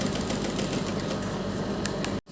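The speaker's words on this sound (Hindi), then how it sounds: "किनारे किनारे पर सिलाई लगाते हुए हम यहाँ पर लेस लगा लेंगे।" Sewing machine stitching lace along the edges of a kurti neck panel, a steady close whirring hum with rapid needle clatter that stops abruptly near the end.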